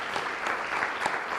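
Applause from an audience in a hall at the close of a live talk on mental resilience and well-being, a steady, fairly distant wash of many hands clapping throughout.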